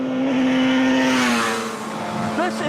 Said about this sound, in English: This is a 500cc 4-cylinder 2-stroke.